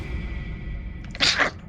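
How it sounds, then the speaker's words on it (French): A short sneeze bursts out near the end after a quiet stretch with a faint steady tone, close and fairly loud, with no voice in the clip. "T'as éternué en même temps d'avoir peur"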